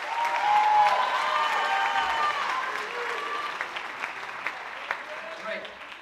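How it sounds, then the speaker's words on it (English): Audience applause at a high school awards night, a steady wash of clapping from a crowd that gradually thins and softens, with a few sharper claps standing out and faint voices underneath. "So clap it up for the wonderful Mia."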